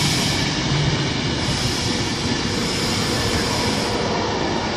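Virgin Trains electric unit 390128 on a Glasgow Central service rolls through Wigan North Western station, giving a loud, steady, close roar and rumble of wheels and motors with no voices.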